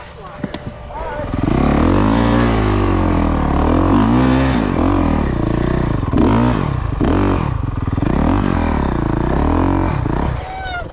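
Dirt bike engines revving steadily and loudly up close, with rising and falling pitch as the riders throttle, continuous for about ten seconds with a brief clatter at the start.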